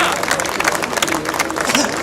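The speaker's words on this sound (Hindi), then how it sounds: "जोरदार तालियों से जब तक ये शुरू ना करें अपना उद्बोधन" Loud, dense applause from a crowd at a rally at Jantar Mantar, Delhi, continuous and steady throughout, with murmuring voices mixed into the clapping.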